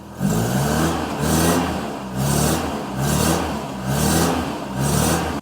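A Ford Escort Mk3 engine running just after a cold start, its steady mid-range drone near and loud with a slow, regular surge and dip every second or so, no one talking over it.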